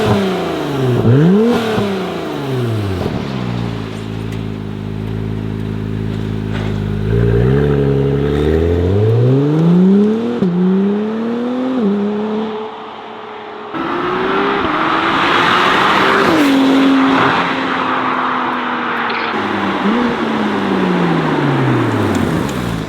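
An Acura NSX on its stock exhaust is revved repeatedly while parked, loud close engine swells rising and falling in pitch with brief idle gaps between blips.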